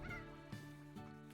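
A stony hen in the video game Slime Rancher clucks and squawks in three short bursts, close up over steady game music.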